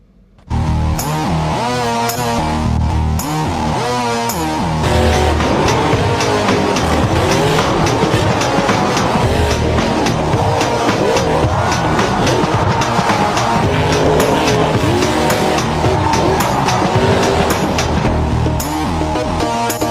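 Monster trucks racing in the Monster Truck Simulator video game at a Rogers Centre stadium event, producing a loud, continuous engine roar with tire squeal and skidding that runs steadily for the whole stretch, with no talk over it.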